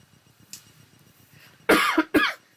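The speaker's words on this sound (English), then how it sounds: "I hope my cough isn't annoying you too much" Two quick, loud, close coughs follow a stretch of faint background sound, the second cough coming right after the first.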